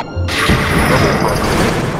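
A loud, booming bomb explosion in the underwater fish game Feeding Frenzy, a sudden blast followed by a dense crashing roar that fills the moment.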